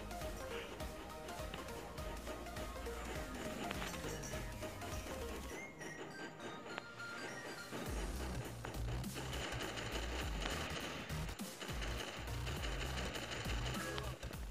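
Continuous rapid gunfire from a video game, loud and relentless automatic shots chattering throughout with a brief lull midway, layered over dense game effects and no talk.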